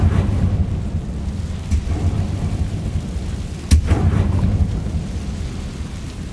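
The Incendio fire spell cast in Hogwarts Legacy comes out as a low, continuous roaring rumble, with a single sharp crack bursting through partway before the roar settles again.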